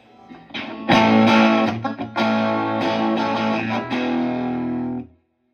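A Fender '68 Vibro Champ Reverb tube amp, turned up to about 7, chugs and rings out loud and gritty, chords sustaining with crunchy breakup for several seconds before cutting to silence.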